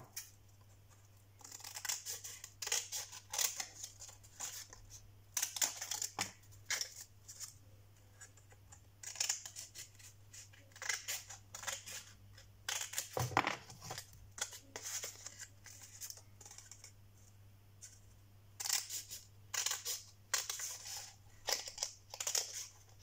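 Scissors snip away excess material in a series of short, crisp cuts and crinkly rustles, close and fairly quiet, arriving in irregular bursts with pauses between them.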